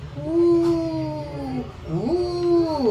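A voice imitates a dog's drawn-out whimpering howl, two long wavering cries close and loud, the second rising before it trails off.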